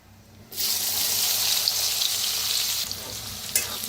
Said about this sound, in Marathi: भाजून घेऊया कांद्याला